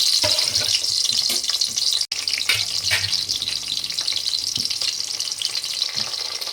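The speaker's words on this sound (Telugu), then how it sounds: "కట్ చేసుకున్న ఉల్లిపాయ ముక్కలు ఇందులో వేద్దాం కొంచెం బ్రౌన్ కలర్ రానివ్వాలి" Chopped onion pieces hit hot oil in a pan for a spicy Rayalaseema fish curry and crackle in a loud, steady sizzle, with a brief clatter near the start and no one talking.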